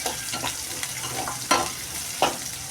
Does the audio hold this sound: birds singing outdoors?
no